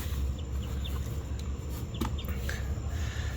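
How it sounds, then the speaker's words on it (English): Newly hatched chicks give faint, scattered high peeps over a steady low background hum. "I got 5 chicks right there."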